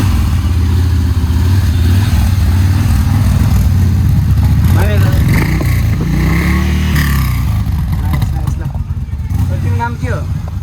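A Yamaha Bolt 900cc motorcycle idles with a deep, loud rumbling thump close by, its engine note wavering and rising briefly while someone talks over it.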